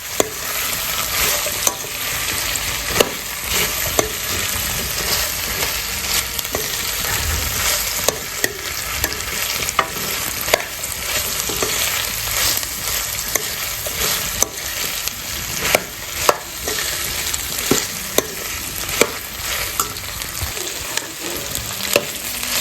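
Chopped okra fries in a pan with ginger garlic paste for bendakaya masala pulusu, giving a loud continuous sizzle punctuated by frequent sharp scrapes and taps of a stirring spoon, with no speech.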